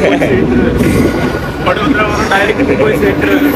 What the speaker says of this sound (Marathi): आता लोकल ट्रेन पकडली आहे.